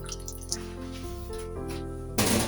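Water poured into a pot of chopped carrots for a stew, a steady trickling flow with droplets, then a louder splashing surge near the end.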